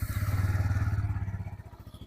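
A Bajaj Pulsar N160 motorcycle idles close by just after starting, a steady rapid low thumping pulse that fades slightly toward the end.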